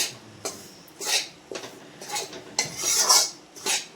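Laddu mixture roasted in a pan over a low flame, with a spoon scraping and clattering against the metal in uneven bursts, close and fairly quiet.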